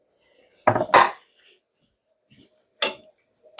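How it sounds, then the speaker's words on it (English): A spoon stirs boiled pierogi in a pot. A few close, scraping metal clatters come in two short bursts, with quiet gaps between them. "Give it a stir just so that they're not stuck on the bottom or anything."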